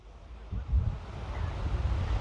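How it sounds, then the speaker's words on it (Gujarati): Cool wind on a village seashore buffets the microphone in a steady low rumble, with a faint wash of surf beneath. "અત્યારે જો ટાઢો મસ્ત પવન આવે છે"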